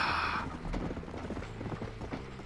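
Horse hooves clip-clopping in Red Dead Redemption, a steady rhythm of close, moderately loud hoof strikes on the ground with faint creaking tack, after a brief bright tone at the start.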